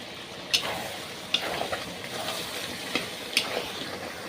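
Chicken curry meat frying in released oil, a moderate sizzle with several sharp spoon clacks against the pan spaced through the clip.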